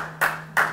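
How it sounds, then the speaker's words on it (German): Two sharp hand claps, about a third of a second apart, ring out over a steady low electrical hum in a hall during a keynote at an urban planning symposium. "dann können wir am Ende klatschen"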